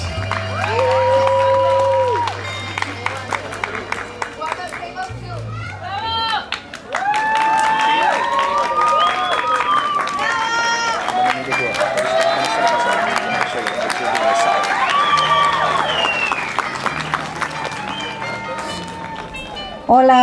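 Quinceañera guests break into applause and cheering at an evening celebration, a steady crowd wash of clapping that runs throughout, with voices and music mixed in underneath.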